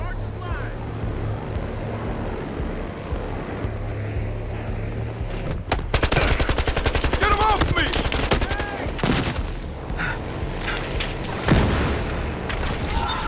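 Gunfire rattles through a Battlefield Hardline multiplayer match, starting with ambient rumble before rapid automatic bursts break out and continue, with sharp shots standing out later, while a player talks over the action.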